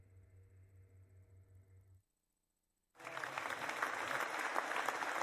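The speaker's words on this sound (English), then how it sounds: "Full round of applause." A round of applause sound effect cuts in after a short silence, a full, dense burst of many hands clapping that holds steady to the end, following a brief low tonal passage.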